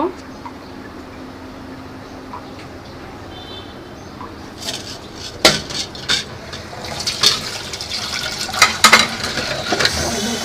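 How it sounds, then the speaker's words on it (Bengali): Plates and bowls from breakfast being washed, quiet at first, then close clattering of dishes and clinks of steel plates with splashing water over the second half. "সকালে নাস্তা করার পরে যে থালা বাটিগুলি জমছে এখন এগুলি ধুয়ে নিব"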